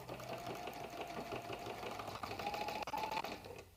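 A sewing machine stitches the lining of a tote bag, running in a steady fast mechanical whir with rapid needle ticking that continues without a break and stops near the end.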